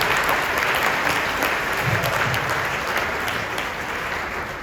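A room of guests at a women's racial justice breakfast breaks into sustained applause, a steady wash of clapping at even strength that fades a little toward the close, with no speech over it.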